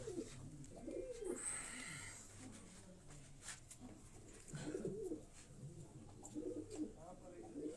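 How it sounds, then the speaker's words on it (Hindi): Breeding pigeons in a loft, soft low cooing calls rising at intervals over a steady background hiss, with a bright chirp near the start and faint activity around them. "ये दोस्तों ये उनकी ब्रीडिंग जो सेटअप के कबूतर हैं ये मैं आपको दिखा रहा हूँ।"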